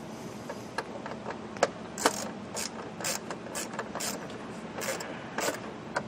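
Socket wrench ratcheting plastic-thread sheet metal screws into plastic during a 1999-2007 Super Duty AC blower motor replacement: steady close clicking and grinding with sharp louder ticks, no talk.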